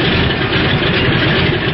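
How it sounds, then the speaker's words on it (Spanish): A seaplane's engines rumble loud and steady in a dense, continuous low drone that fills the whole moment without pause. "Los motores del hidroavión empiezan a funcionar."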